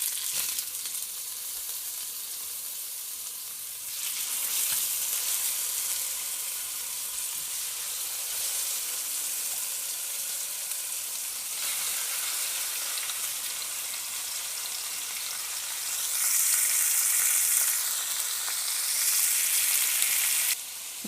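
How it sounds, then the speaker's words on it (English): Pork spare ribs searing in smoking-hot oil in a Dutch oven, four at a time, giving a loud, steady, close sizzle that swells slightly in places and runs unbroken with no talking. "I have 8 ribs to sear off, so I'm going to do them 4 at a time"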